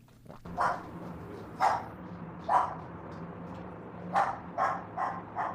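A dog barks outdoors in seven sharp separate woofs at uneven intervals, fairly close, over a low steady background hum, with no talking.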